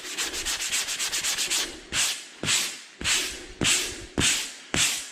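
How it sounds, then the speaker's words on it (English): Light hand sanding of a drywall repair, a quick run of short rubbing strokes followed by five or six longer, slower sweeps, close and fairly loud, with no talking. "Just really light sanding."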